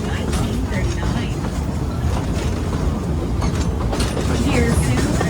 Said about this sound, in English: the engine will be entering a curve, from which you can see the lower tracks from the downhill side of the train